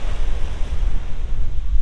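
Ocean waves on the shore at Isla de Cabras, Puerto Rico, a continuous low rumbling wash with gusty wind noise buffeting the microphone, steady and fairly loud with no voices.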